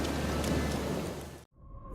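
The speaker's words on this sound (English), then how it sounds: "Looks like rain." Steady rain falls with low rumbling thunder in The Witcher 3 game world, a dense continuous wash that cuts off abruptly, leaving a brief near-silence before faint ambient sound returns.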